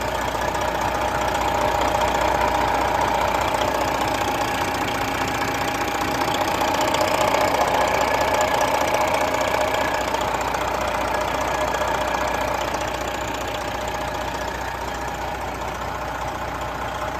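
A 2018 Kenworth T800 glider truck with a factory-reman Detroit engine idles steadily, giving a close, even diesel rumble with a fine rapid knock. The sound stays loud and unchanging throughout, with no voices.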